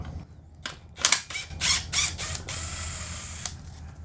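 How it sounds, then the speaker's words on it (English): Screw being worked out of the chain brake on an older Stihl chainsaw, a series of close, dry ratcheting clicks and scraping bursts followed by a steadier metallic rasp, with no talking. "Here, let's go ahead and get this screw out."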